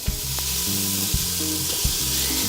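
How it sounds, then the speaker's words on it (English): Bacon and butter sizzle and fry in a warmed pot on the stove, a loud, close, continuous hiss with a few faint clicks of stirring. "I've warmed the pot, and I'm going to add the bacon and the butter"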